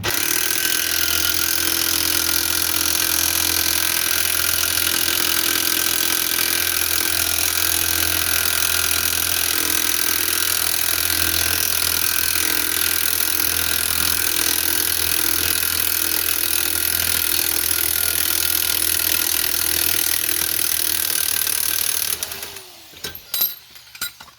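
A power tool runs steadily for about twenty seconds while undoing a wheel bearing nut, a loud continuous mechanical whir, then stops with a few clanking knocks at the end.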